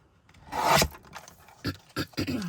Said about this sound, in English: So we'll trim this in half.